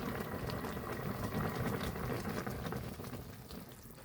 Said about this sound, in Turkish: Patlıcan yemeği kaynamaya başladı.